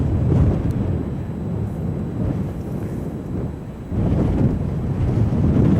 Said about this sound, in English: it's cold up here and windy